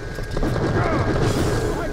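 A gunshot in the video game Borderlands: The Pre-Sequel, heard as a dense, loud burst of booming game action that carries continuously across the two seconds with no clear gaps.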